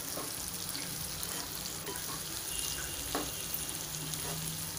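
Okra frying and stirred in hot oil over a medium gas flame for masala bhindi, a steady close sizzle with occasional scraping clicks from the stirring.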